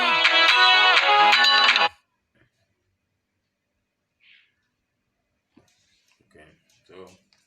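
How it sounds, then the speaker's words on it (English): A phone ringtone trills loudly in a rapid repeating electronic pattern for about two seconds, then cuts off, followed by quiet with a few faint voices. "I'm not sure how much we mean to answer the phone."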